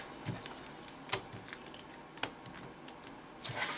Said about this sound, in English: All right, let's cut them.